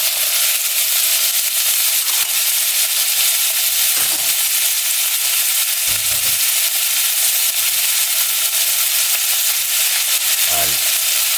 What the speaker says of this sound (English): and fry it up.